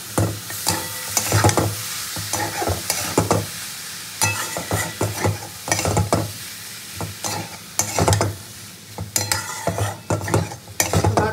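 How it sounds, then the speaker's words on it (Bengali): Rice and chicken stirred and fried in a pan, with a steady sizzle under repeated scraping and clattering strokes of a utensil, close and loud, with no talk. "ভাতটা দিয়ে খুব ভালো করে নাড়াচাড়া করে মিশিয়ে নিতে হবে।"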